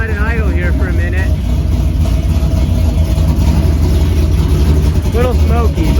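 A NASCAR race car engine idles loud and close, a thick steady throbbing rumble with a lumpy, uneven pulse running for several seconds.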